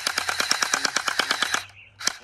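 A gun fires in a rapid, loud, evenly spaced burst of roughly fifteen shots, pauses briefly, then fires one more shot, with the shooter aiming it at himself.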